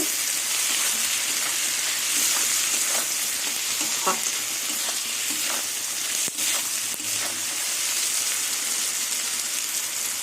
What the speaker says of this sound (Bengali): বাটা পেঁয়াজ দিয়ে আলু দিয়ে ভালো করে আবার কিছুক্ষণ ভেজে নেব